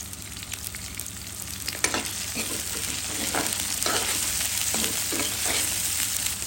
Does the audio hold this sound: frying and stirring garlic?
yes